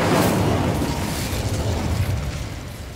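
Incendio fire spell cast in the video game Hogwarts Legacy, a loud whooshing fiery burst that starts strong and fades over a few seconds, with no talk.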